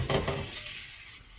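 Potatoes are dropped into a pan of hot oil with frying onion and garlic, a brief loud clatter and burst of sizzle up close that settles into a quieter, steady frying hiss.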